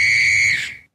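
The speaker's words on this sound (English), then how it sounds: "I brought the whistle back one more time." A single sharp whistle blast, loud, shrill and steady for just under a second before cutting off into silence.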